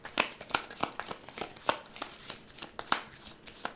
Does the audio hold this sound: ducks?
no